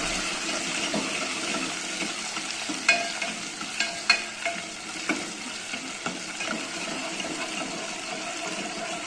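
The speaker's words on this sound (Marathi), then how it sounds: "हे बघा त्यानंतर मी हे टमाटे टाकून घेते, तेल भी चांगले परतून घेते।" Tomatoes frying in hot oil in a pan for a dried bombil and potato curry, a steady sizzle with intermittent scraping knocks of a spoon stirring, no voices.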